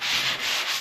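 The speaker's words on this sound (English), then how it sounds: "I'm just going to kind of do a little tune-up sand on this" Hand sanding over a repaired drywall patch, a steady close scraping rub with two or three back-and-forth strokes, continuous and fairly loud with no voices.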